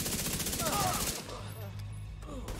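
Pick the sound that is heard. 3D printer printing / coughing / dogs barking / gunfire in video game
gunfire in video game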